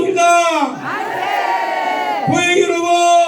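At a political press conference for a district mayoral candidate, a crowd of supporters bellows two loud, drawn-out unison "manse" cheers in succession, each a sustained chorus of voices with a brief break between.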